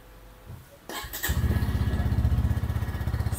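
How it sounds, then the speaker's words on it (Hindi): A Bajaj Pulsar N150 motorcycle with an OBD2 engine cranks over, catches and settles into a steady, close, rhythmic idle thump that continues to the end. "आइए करते हैं स्टार्ट। एंड मुझे पता है आप लोग बहुत देर से वेट कर रहे हो इस बाइक का साउंड सुनने के लिए।"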